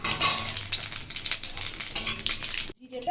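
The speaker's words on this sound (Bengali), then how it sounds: "তেল গরম হয়ে গেছে এবার জিরে ফোড়ন দিয়ে দিলাম" Cumin seeds crackle and spit in hot mustard oil in a kadai, a close, busy sizzle with faint utensil clinks that stops abruptly near the end.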